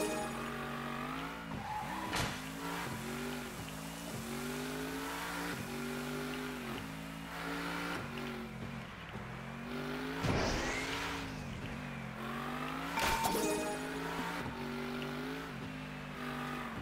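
Miniature race cars in the video game Table Top Racing World Tour, whining engines revving and shifting pitch continuously, with tire squeals and skids, loud and close throughout.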